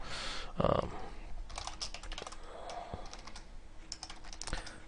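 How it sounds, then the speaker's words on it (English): Typing on a computer keyboard while writing a C++ program, heard up close as a steady stream of quick plastic key clicks with occasional heavier keystrokes. "Now, I'm just going to start typing a C++ program."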